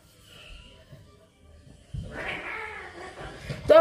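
Two sister cats fight indoors: after near silence comes a sudden loud burst of hissing and snarling yowls that continues to the end.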